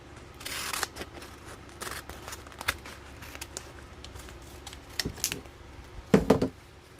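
Cricut cutting machine cutting out a design for gift basket decorations, heard as a faint, steady mechanical whir with scattered soft clicks and a brief louder rattling burst near the end.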